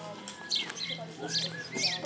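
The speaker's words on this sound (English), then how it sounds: "The birds are having fun." Birds chirp outdoors beside a countryside cabin in the Czech Republic after a day of heavy rain, bright short tweets repeating in small bursts at a moderate distance, mixed with faint voices and background noise.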